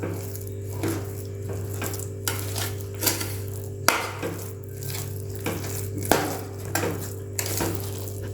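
Powdered rock sugar stirred in a cooker on the stove, a metal spoon clinking and scraping against the vessel in sharp intermittent knocks over a low steady hum.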